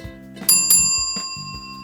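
A bicycle-style bell rings clearly in a few bright chimes, two strong strikes close together followed by a softer third, with sustained metallic ringing tones and no voices.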